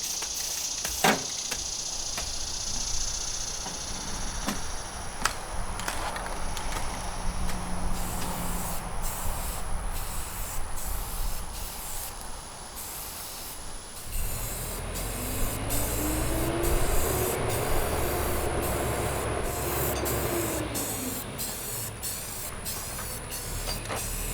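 Spray paint hissing onto a mini mobile during a makeover, long steady bursts of aerosol with short pauses and clicks, fairly close, alone with no talk.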